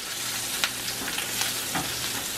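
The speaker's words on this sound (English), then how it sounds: "Ooh, sizzle. We got steak and sizzle today." Steak frying in a hot pan gives a steady, loud, close sizzle with crackling pops throughout and no talk over it.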